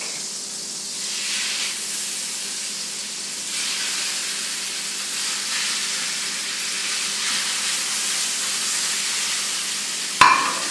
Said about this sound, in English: to our olive oil, we're going to add 2 tablespoons of butter. We're going to add to it our skirt steak.